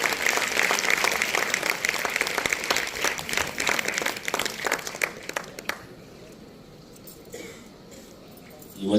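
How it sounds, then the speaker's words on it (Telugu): Audience applause at a Telugu association celebration, a dense burst of clapping that fills the first half and then fades out, leaving a quiet hall with faint room noise. "అందరూ బలంగా చప్పట్లు కొట్టినట్లయితే"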